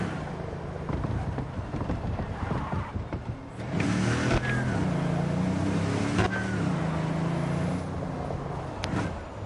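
A car driven in the video game Cyberpunk 2077, its steady engine drone running throughout and swelling louder partway through as it moves, with no talk over it.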